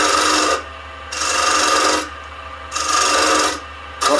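A wood-turning gouge cuts a cove on a spinning lathe, giving loud rasping, shaving hiss in three long passes separated by short quieter gaps of the motor hum, close up and without talk.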